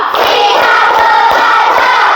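A classroom of pupils claps together in a counted rhythmic pattern, a loud, steady wash of many hands with regular beats, no talk over it.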